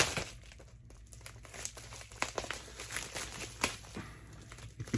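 Scissors snip and crinkle through a taped plastic package bag holding a custom file card, with rustling, tearing plastic crackles and a few sharp cuts close by.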